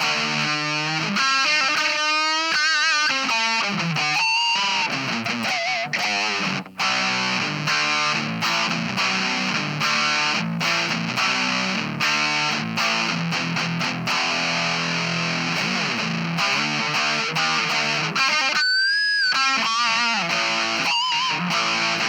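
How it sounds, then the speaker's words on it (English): Heavily distorted metal guitar tones with the gain maxed, played through a tiny amp with two 1-inch speakers, a dense continuous buzzing wall of riffs and chugs with no pauses. "Here's some of the metal tones here that you can get off of this thing. Gain is all the way up currently."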